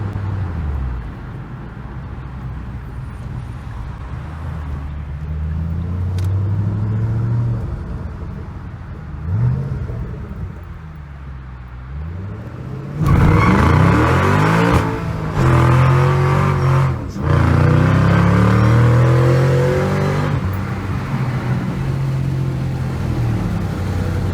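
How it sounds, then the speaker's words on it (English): A 2014 Shelby GT500 with a Borla ATTAK catback exhaust revs and climbs through the gears, then breaks into a loud, raspy full-throttle roar from the exhaust that holds for several seconds. "let's see what this exhaust can do, how it sounds on a wide open throttle rip"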